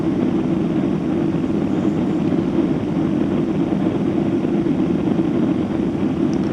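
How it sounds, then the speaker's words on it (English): Steady, loud engine roar of a Qantas Boeing 767-336ER on final approach to runway 03 at Perth, heard from inside the cabin as an unbroken hum with no talk. "now the pilot will be flying the glide slope down to the end of the runway"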